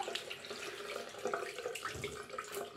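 Cold tap water runs steadily into a sink while preparing for a shave, a soft continuous splashing hiss at low volume with faint clinks, and no voices.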